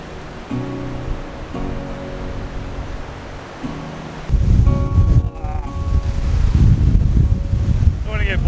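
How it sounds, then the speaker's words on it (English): Strong wind buffets the microphone on an exposed Australian mountain, a loud continuous roar with gusting rumble, and a voice talking briefly beneath it. "Man, it is so windy right now"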